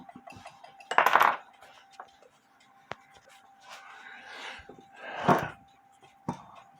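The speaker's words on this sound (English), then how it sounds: "I'm going to have to get some more keys out." Clock keys for a German Jahresuhrenfabrik granddaughter clock are rummaged, giving a few scattered metallic clinks and jingles, with two brief louder bursts of rattling, close and fairly quiet.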